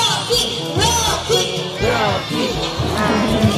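A crowd of people cheers and chants a name in unison at an all-star bird show, with loud rhythmic shouted calls repeating close by.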